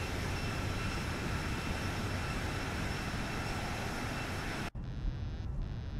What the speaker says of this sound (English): Reverse thrust activated. See the reverse thrust here.